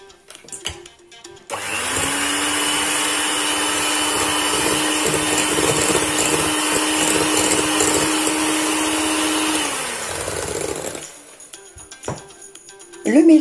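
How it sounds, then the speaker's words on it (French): An electric hand mixer whirs steadily for about nine seconds, beating whole eggs, an extra yolk and sugar in a bowl for a clafoutis, a loud even motorized whine that starts and stops abruptly. "je travaille au batteur électrique pendant 1 minute"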